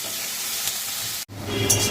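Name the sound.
onion frying in a pan for fried rice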